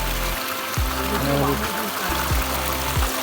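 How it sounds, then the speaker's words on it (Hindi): Water streams down from above near a bear cave site, a steady loud rushing and trickling flow with a few low thumps, filling the scene without a break. "देखा ना तुमने पानी कितना ज़बरदस्त है, ऊपर से आते और पता नहीं कहाँ तरफ से आते पानी है।"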